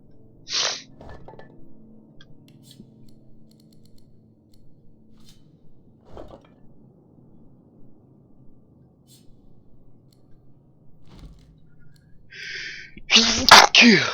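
A person sneezes sharply up close near the end, after a long quiet stretch with faint background sounds and a brief earlier sniff-like burst.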